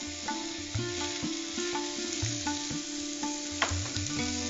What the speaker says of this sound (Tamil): வெங்காயம் நல்லா எண்ணெயில வதங்கினதுக்கு அப்புறமா தக்காளி சேர்க்கிறாங்க.